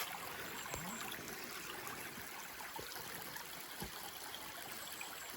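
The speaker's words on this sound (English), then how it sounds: "that was Mountain Town Creek there that we forded twice unnecessarily" Mountain Town Creek runs steadily along a hiking trail, a continuous broad wash of flowing water with no voices, fairly soft and even throughout.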